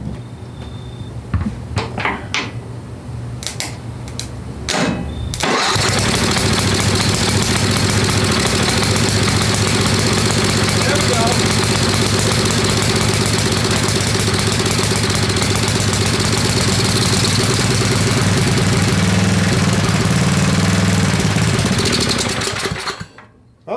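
A Craftsman riding lawnmower's 10 hp Tecumseh engine, water-damaged, runs steadily on choke for about 18 seconds after a few clanks and a quick start, loud and close throughout before cutting off.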